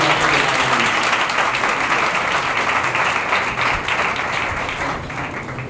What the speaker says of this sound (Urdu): آئے زوردار تالیاں بجائیں